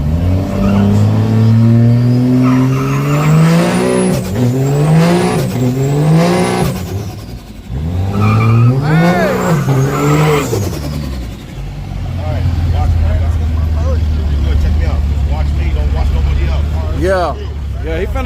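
A street race car at a drag strip revs hard through a burnout, engine climbing and falling in repeated surges with squealing tire noise, loud and near, while people talk over it.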